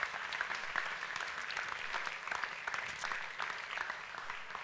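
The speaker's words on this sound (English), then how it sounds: "Maybe we give Magella a round of applause" Small audience at a piano duet club applauds a teacher named Magella, a steady patter of moderate, slightly distant clapping with no voices.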